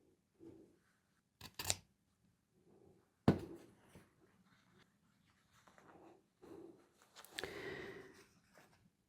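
Scissors trim quilt binding close by in a sewing session: a few short, sharp snips and clicks spaced by quiet pauses, with faint rustling of fabric between cuts.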